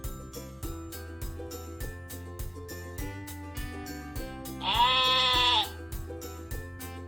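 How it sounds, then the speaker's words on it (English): A sheep gives one clear, drawn-out bleat lasting under a second, set against bouncy children's music that plays throughout. "Sheep, sheep."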